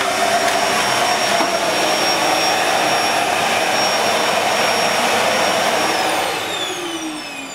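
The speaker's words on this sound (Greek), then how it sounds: "Να τη σταματήσω τη σκούπα." A household vacuum cleaner roars loudly and steadily up close. Near the end it is switched off, and the motor winds down with a falling whine. No one speaks.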